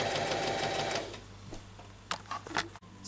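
A sewing machine runs steadily while stitching along a child's dress neckline, then stops after about a second, leaving a few faint clicks and small handling sounds.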